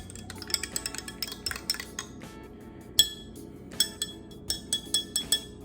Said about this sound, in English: Just stir it up a little bit. Gotta stir it.